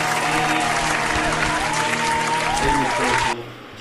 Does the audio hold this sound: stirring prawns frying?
no